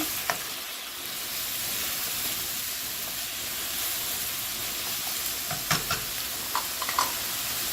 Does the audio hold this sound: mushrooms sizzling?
yes